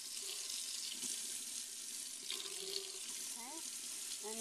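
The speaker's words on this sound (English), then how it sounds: "Here is my tap." Hot water runs from a tap in a steady, close hiss, continuous throughout with a brief faint voice-like tone near the end.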